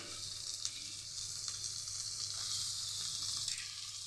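Curry leaves with turmeric and salt fry steadily in hot oil, giving a continuous close hiss and sizzle with faint crackles, no voices.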